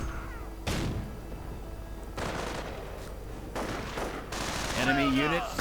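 Pioneers getting sniped in a Company of Heroes 1v1 match, a run of sharp distant gunshots and short bursts of fire against battlefield rumble, ending in a trilling tone.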